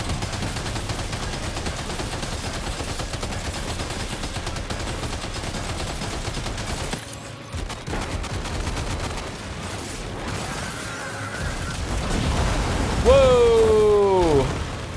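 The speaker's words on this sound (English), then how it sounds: "Opening fire now." Sustained gunfire in the video game Death Stranding 2, a dense, continuous rattle of shots lasting many seconds, loud and close, with game effects and a rising whistle-like tone near the end.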